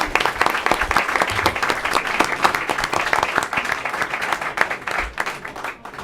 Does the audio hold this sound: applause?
yes